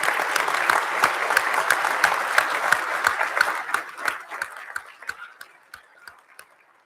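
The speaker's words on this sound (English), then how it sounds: "I want to give a round of applause to you, the families, who encourage them" Audience applause for recruits' families at a Boston Fire Academy recruit graduation in 2026, a dense crowd of clapping that holds steady, then thins into scattered individual claps and fades out.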